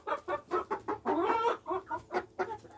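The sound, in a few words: chickens clucking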